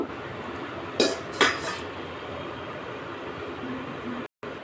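A lid set onto a curry pot of green banana, two bright metallic clanks close together, then a quiet low background hum.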